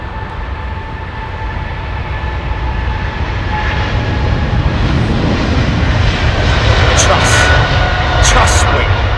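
Jet engines of a Boeing 777-300 at London Heathrow give a heavy roar with a steady high whine running through it, swelling louder as the big airliner gets under way.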